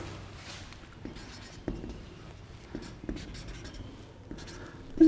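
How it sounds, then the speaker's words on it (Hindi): Marker or chalk writing on a classroom board during a Class 11 physics lesson, scratchy strokes with a few sharp taps, steady and close, no voices. "लिखते हैं, देखो"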